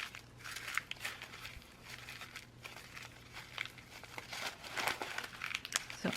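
Paper journal pages crumpled by hand, a continuous close crinkling and crackling with bursts of louder scrunching, no voice.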